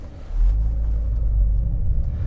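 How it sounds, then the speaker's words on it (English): Steady low road rumble from a 2016 Audi S5 Coupe with manual transmission driving over a rough surface, a continuous droning noise with no talking. "don't judge the road noise on this road"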